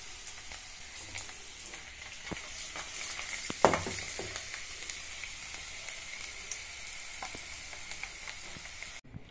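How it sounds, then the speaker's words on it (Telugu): Garlic cloves fry in hot oil for an amla pickle, a steady crackling sizzle throughout with one sharp louder pop near the middle and no voices. "ఇప్పుడు తెల్లగడ్డలు కూడా వేస్తున్నాను ఆయిల్లోనే"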